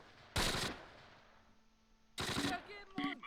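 Two short bursts of machine-gun fire from the Close Combat war game cut down a retreating Panzer Grenadier, loud rattling volleys separated by a pause, with game voice barks after the second burst.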